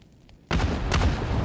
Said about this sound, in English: It's a great explosion on the vehicle